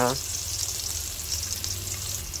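Garlic and ginger sauté in a hot pan for tochong bangus, a steady broadband sizzle running throughout at moderate level, with a brief voice at the very start.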